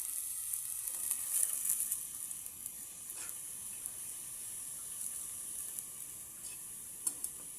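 Broth for pancit habhab bubbling in a covered pot on the stove, a steady hiss of boiling with a few faint clinks, close and even throughout.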